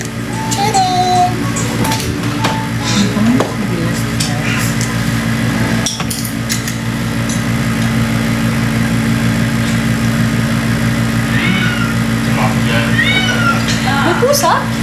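A cat meows from a television playing in a room, the small cries cutting through steady background hum and mechanical noise, with people talking nearby throughout.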